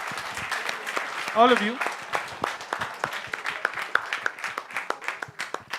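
An audience at a job-interview workshop breaks into applause, a run of sharp, closely spaced claps that starts dense and thins out, with a voice speaking briefly over it.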